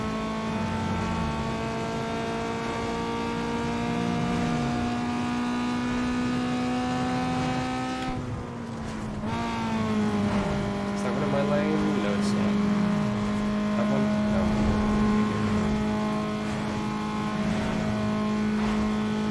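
Racing car engine in Need for Speed Underground 2, revved high toward a 9,000 RPM shift point, a steady loud harmonic drone that drops in pitch at a gear change midway before climbing again, with a voice talking over it.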